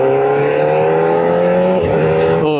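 Kawasaki ZX-4R SE motorcycle engine holding a loud, high-pitched rev close by, with a brief dip and pitch jump near the end as the quickshifter changes gear.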